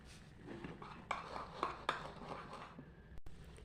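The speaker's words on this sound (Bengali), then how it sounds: "এবার ভালো করে আমি মিশিয়ে নেব।" Cake batter with baking powder and a pinch of salt being mixed in a bowl: a soft, steady scraping and stirring with a few sharper clinks of the utensil against the bowl, close and fairly quiet.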